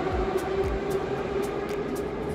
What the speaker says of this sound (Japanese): ここはねモスクワ市内のなんか地下鉄みたいなんですけども